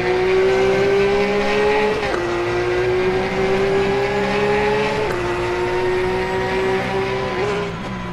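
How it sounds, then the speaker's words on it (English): A race car in a sim racing game, a Porsche cup car, screams along at high revs with a steady engine drone, brief downshift dips and tire scrub as a wheel locks under braking, loud and continuous. "Uh-oh, Luca with a lockup."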